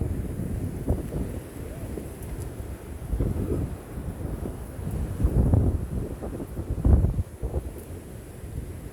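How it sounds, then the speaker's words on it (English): Strong wind buffets the microphone at Sutro Heights in San Francisco, low rumbling gusts that swell and fade in irregular bursts, heaviest near the middle and end, with no talking. "This wind is too much."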